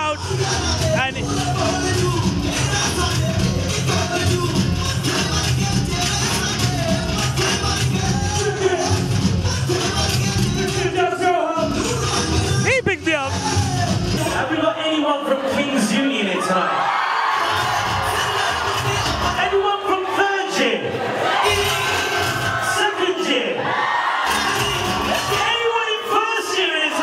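Nightclub crowd at Matter, O2 Arena London, whooping and yelling over loud, continuous dance music with thumping bass, the crowd noise dense and close throughout.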